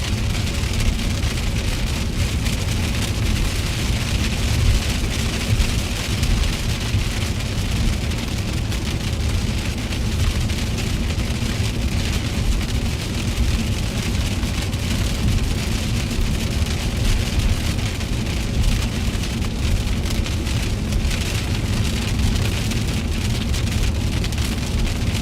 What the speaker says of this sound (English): Cute little hail core.